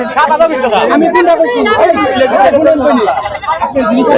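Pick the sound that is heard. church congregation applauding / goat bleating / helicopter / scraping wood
goat bleating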